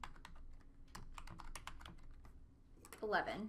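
Rapid typing on a computer keyboard in a math lecture, a steady patter of soft key clicks that ends with a louder tap, heard faintly under the instructor's voice.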